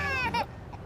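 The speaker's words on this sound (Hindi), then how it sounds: "इंजन स्टार्ट करो तो बच्चे के रोने की आवाज" A baby cries in short, high, wavering wails, two quick bursts that break off abruptly and leave quieter background noise.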